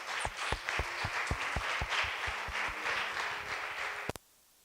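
Applause from a church congregation, a burst of hand claps that builds briefly, holds for a few seconds and then stops abruptly into quiet.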